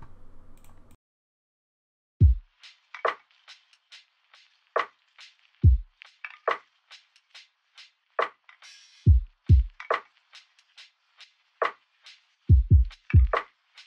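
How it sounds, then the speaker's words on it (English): Simple lofi drum pattern programmed in FL Studio, with deep booming kicks, snappy snares and light Foley-style hats in a slow, sparse groove, heard alone without talk. "And the drums sound like this."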